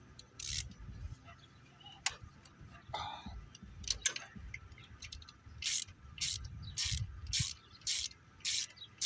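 A ratchet wrench loosens bolts during a car repair, giving several bursts of rapid clicking close by, with quieter rubbing and metal handling between them.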